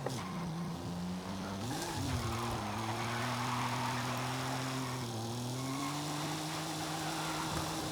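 Retro 2-liter car in Forza Horizon 5 rolling downhill, its engine droning steadily with pitch rising and dipping as revs shift, close and continuous with no talking.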